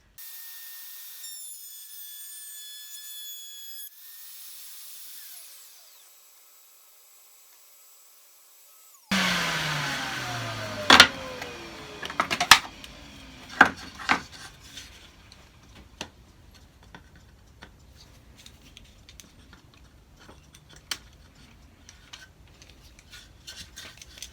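A few high electronic tones, then a quiet pause before a machine starts up and test wood is cut for a simple wooden box, with sharp cracks and rough grinding that trail off into scattered ticks.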